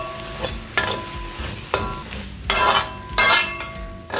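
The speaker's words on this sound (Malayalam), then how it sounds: "ഇതൊന്ന് ഇളക്കി കൊടുക്കാം നല്ലപോലെ" A spoon scrapes and stirs onions with coriander powder, meat masala and garam masala in a sizzling frying pan for a beef pepper roast, with a few louder metallic scrapes and clinks at uneven intervals.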